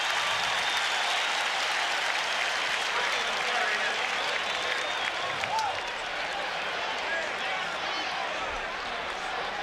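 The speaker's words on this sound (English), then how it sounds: "The crowd aroused on the hit by Marshall and Richardson" Dense stadium crowd roaring at an NFL game, 1985 Washington Redskins at Chicago Bears, after a hard hit, a loud sustained wash of cheering and clapping that eases slightly toward the end, with commentary voices beneath.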